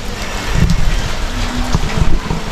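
Steady rain falls outdoors over grass, a dense continuous hiss of drops with a few heavier splatters, loud and close, with no voices.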